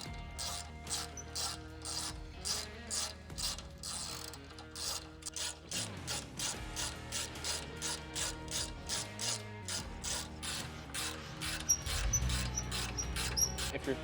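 Rapid rhythmic ratchet clicks as a ratchet turns a tap to clean damaged bolt threads on the front face of a Nissan Xterra bumper mount, steady and close with no talking.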